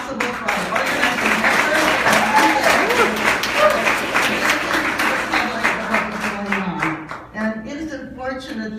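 An audience at a press conference breaks into sustained applause, dense and even for several seconds before tapering off, while a speaker's voice continues over the clapping.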